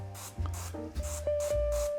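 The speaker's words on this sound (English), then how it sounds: "you can really easily spray all your plants" A pressure sprayer releases nematodes onto houseplant soil in several short hissing bursts, close and fairly loud, with steady pauses between sprays.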